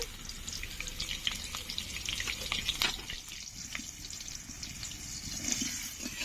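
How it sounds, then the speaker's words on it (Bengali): A steady crackling sizzle of potatoes frying in hot oil, close and even, with occasional soft pops and stirring noises. "আলুগুলো লাল লাল করে ভাজা হয়ে গেছে এখন তুলে নেব"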